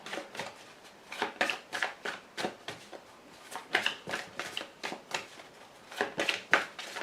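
Tarot cards shuffled by hand, a steady series of crisp riffling swishes in uneven bursts, close and fairly soft with no talking over them.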